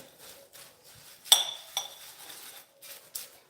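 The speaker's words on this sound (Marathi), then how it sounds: "व्यवस्थित सगळ्या मुरमुऱ्यांना छान मीठ आणि चटणी इथे लागलेली आहे छान व्यवस्थित असं मिक्स करून घ्यायचे" A spoon tosses puffed rice bhel with salt and chutney in a bowl, making light scraping rustles with a few sharp metallic clinks against the dish, close and fairly quiet.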